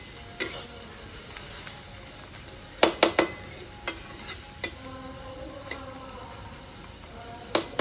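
Restaurant-style mixed vegetables frying in a pan: a quiet sizzle broken by sharp, close clinks and scrapes of a utensil against the pan, some in quick clusters, with no speech.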